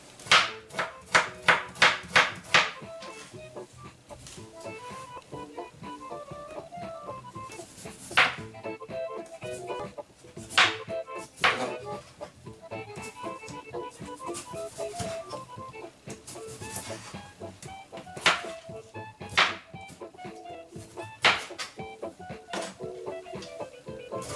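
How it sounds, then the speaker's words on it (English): A knife cutting a peeled kiwi into thin slices on a board, producing a rapid burst of crisp chops followed by scattered, irregular cuts and soft taps, close and moderately loud. "And then I'm just going to do little thin slices here."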